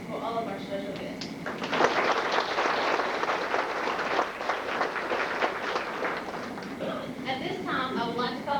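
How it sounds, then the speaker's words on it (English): At an FFA banquet, the audience applauds the special guests with a swell of clapping that builds, holds for several seconds and then tapers off. A speaking voice is heard briefly before the applause and again as it fades. "Please join me in a round of applause for all of our special guests."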